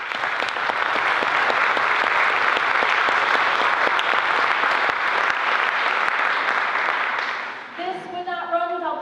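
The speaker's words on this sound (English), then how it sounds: "Please give them a round of applause." A concert audience gives a long, dense round of applause that holds steady, then fades near the end as a voice starts speaking over it.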